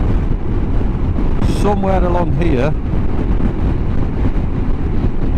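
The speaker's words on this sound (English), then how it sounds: "it's windy now, I hope you can hear us alright" Heavy wind buffets the microphone with a constant low roar while a person speaks briefly over it.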